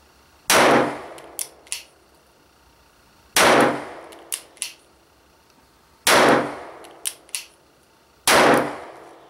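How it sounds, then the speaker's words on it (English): Four loud, close shots from a Chiappa Rhino 50DS .357 Magnum revolver, spaced about two to three seconds apart, each followed by quick metallic clicks of the action. "I was shooting a little too fast for the gun"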